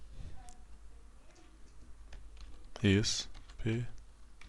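Typing on a computer keyboard to enter text into a textbox, with scattered soft clicks and someone speaking briefly over them.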